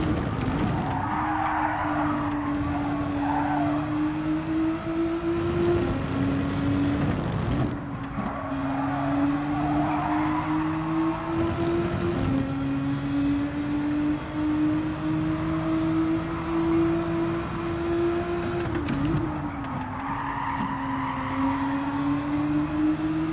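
Race car engine in Gran Turismo 7 climbing through the revs and dropping as the throttle is lifted on corners, with squealing tires at times, loud and close-up.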